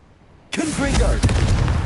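A Confringo spell blast goes off in Hogwarts Legacy after half a second of near silence, bursting in loud and staying as a rumbling explosion with a crackling second hit, while a voice speaks over it.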